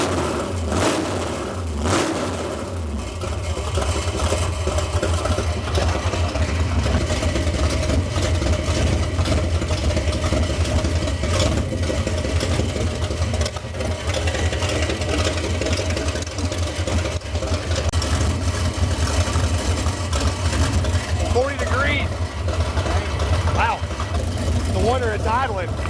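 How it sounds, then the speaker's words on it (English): A 1968 Dodge Coronet V8 with a four-speed, revived after decades of sitting, idles roughly and loudly with an uneven, lumpy rumble, holding steady throughout with occasional faint voices in the background. "It's idling."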